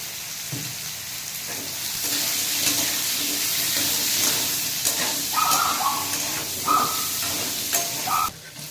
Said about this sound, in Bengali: এর মধ্যে একটু হলুদ দিয়ে দেব, একটু লবণ দিয়ে, একটু আধা চামচ হলুদ, আধা চামচ লবণ, এটা দিয়ে একটু ভাজা ভাজা করে নেব।